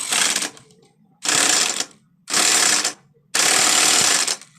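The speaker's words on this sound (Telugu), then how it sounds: "నేను నట్ టైట్ చేస్తాను" A power tool tightens the rotor nut on the clutch of a Bajaj Avenger 220 motorcycle in four loud, close rattling bursts, each about a second long, separated by brief silences.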